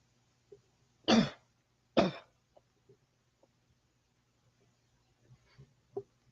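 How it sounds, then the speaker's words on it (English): Two sharp, close coughs in quick succession, followed by quiet scattered small noises in an otherwise hushed room. "Cough."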